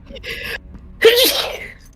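A single sharp, loud sneeze bursts out after a short breathy intake, close to the listener, amid a casual indoor conversation.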